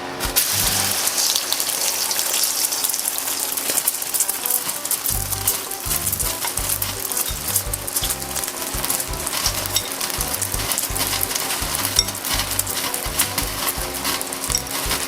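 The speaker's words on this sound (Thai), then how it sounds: "หลังจากนั้นนะคะเทไข่ลงไปค่ะ" Beaten egg poured into hot rice bran oil in a pan for a keto clear egg soup, with a steady broadband sizzle and crackle running throughout, growing busier and more textured about a third of the way in, with no talking.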